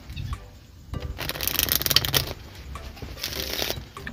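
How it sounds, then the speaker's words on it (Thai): Playing cards riffle shuffled in close-up during a card trick: a short brisk ripple, then a longer fluttering riffle of cards interleaving, with a lighter riffle toward the end and no talk. "ด้วยการกรีดไพ่เข้าหากัน"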